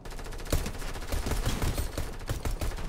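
Rapid gunfire in the video game Fortnite, a dense run of sharp loud shots in quick bursts filling the stretch without pause.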